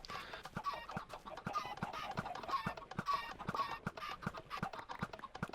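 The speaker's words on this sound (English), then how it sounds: "hold down right click, you can hear it's hatching them" Chickens cluck repeatedly in Minecraft as thrown eggs hatch, a quick series of short clucks and clicky pops at a moderate, even pace, fairly quiet with no talking.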